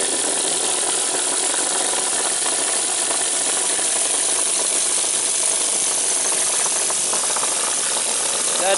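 A small steam engine runs during destructive testing, giving a loud, continuous mechanical clatter and rattle that holds steady throughout without pauses.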